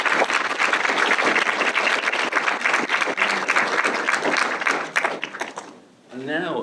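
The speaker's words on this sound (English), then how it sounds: "Please give our guest of honour a big round of applause." A theatre audience at the Screen Play 2024 event applauds a guest of honour with dense, loud clapping that holds steady for several seconds, then fades out as a voice begins speaking.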